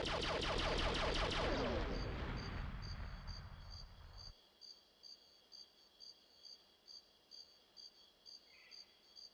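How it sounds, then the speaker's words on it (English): Crickets chirp in a night scene in the Perfect Dark PC port video game: a dense, loud wash fades into a steady, faint series of regular pulsing chirps. "The sound of these crickets are perfect."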